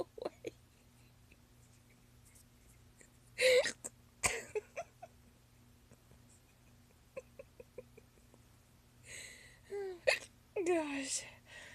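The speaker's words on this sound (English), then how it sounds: "the hiccups won't go away." Hiccups from a person, several sharp, close bursts scattered across a quiet room, with soft breathy voice sounds and faint murmured speech between them.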